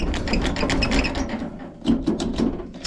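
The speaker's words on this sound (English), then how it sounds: "don't want to break the wrench and the socket" A ratchet wrench with a socket clicks rapidly as it turns a tight bolt on a Craftsman riding mower, a loud, close, steady run of metallic clicks with a brief pause and a few heavier strokes near the end.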